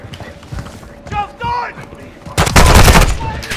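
Rapid gunfire from the Call of Duty: Modern Warfare II video game breaks out as a loud, dense burst of shots after players talk over lighter in-game noises.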